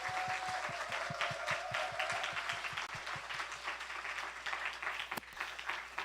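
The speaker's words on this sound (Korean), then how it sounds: "오늘 우리 처음 나오신 분들을 위해서 우리 환영의 박수 한번 합시다" A church congregation claps to welcome first-time visitors at a Christmas thanksgiving service: a faint, moderate round of clapping with a steady rhythmic beat running beneath it.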